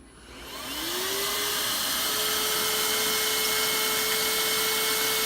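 A Hoover Fusion Pet cordless stick vacuum switches on and spins up within a second, then holds a steady, loud whirring hum with a high airy hiss, close by and with no voices.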